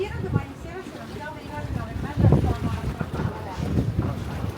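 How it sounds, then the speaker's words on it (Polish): A small passenger ferry crosses a harbour in Italy, its low engine rumble steady under strong wind buffeting the microphone, with people talking nearby over the boat noise. "To co zrobiliśmy? Płyniemy patką."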